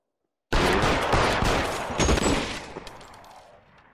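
Dense in-game gunfire from L.A. Noire, a rapid burst of overlapping shots and a sustained fusillade that rolls loud for a couple of seconds before tapering into echoing tail.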